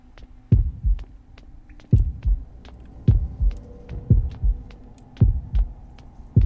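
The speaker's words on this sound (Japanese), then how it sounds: "心音がでかくなってきましたね" Heartbeat in the mobile horror game Horrorfield: a steady, loud lub-dub pulse with heavy low thumps, repeating roughly once a second with nothing else over it.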